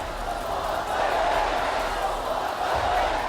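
A large crowd gathered in Beirut, Lebanon, a steady dense roar of many voices chanting and shouting together, loud and continuous without pause.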